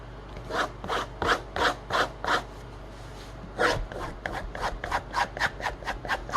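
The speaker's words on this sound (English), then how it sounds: "When you're stropping, it doesn't matter to come up a little bit more on the edge" A knife edge is stropped in repeated rhythmic rubbing strokes, about a dozen close swipes with a brief pause in the middle, each one a dry, raspy swish.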